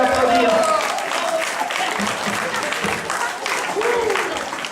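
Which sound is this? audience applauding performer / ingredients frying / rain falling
audience applauding performer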